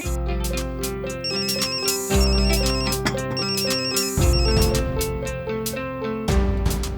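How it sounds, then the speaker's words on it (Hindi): A melodic mobile phone ringtone rings on and on for the whole stretch while the call goes unanswered, in a Hindi TV comedy household scene. It is loud and steady, looping its tune with no talking over it. "वो एक्चुअली मिस्टर वागले फोन नहीं उठा रहे हैं।"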